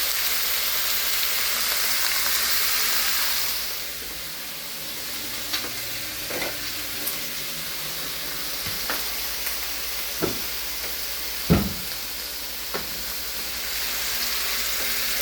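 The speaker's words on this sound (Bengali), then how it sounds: "বাট আজকে একটু ভেজে দিব। ভেজে দিলে স্বাদে লাগে বেশি, ভালো স্মেল আসে।" Chopped vegetables frying in hot oil in a pan for khichuri, a loud steady sizzle that eases after a few seconds, broken by scattered clinks and scrapes of a spatula stirring, close up with no talk.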